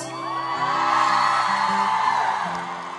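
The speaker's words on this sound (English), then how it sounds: "nothing calms the nerves like thousands of people screaming at you" Thousands of fans scream, whoop and cheer at a Big Time Rush concert, a loud, dense and sustained crowd roar with high shrieks layered over it, swelling through the middle and easing slightly toward the end.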